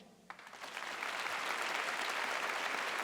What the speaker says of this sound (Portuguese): Mas aplaude para valer.